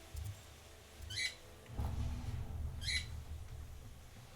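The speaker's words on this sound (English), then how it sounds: "Sorry for bird screams." A pet bird gives two short, shrill screeching calls about two seconds apart, heard fairly close over a low background hum.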